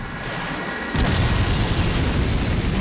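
A bomb blast from Yoshikage Kira's first bomb in a video game, a sudden loud boom that swells into a dense, sustained rumbling roar lasting a couple of seconds.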